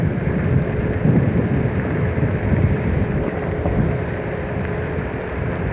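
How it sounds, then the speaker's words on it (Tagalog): Steady rain hisses during a rush-hour storm, with low rumbling thunder swelling and fading beneath it, a continuous downpour recorded close by with some wind buffeting the microphone. "Sana ganito lang yung ulan, hindi na sana lumakas"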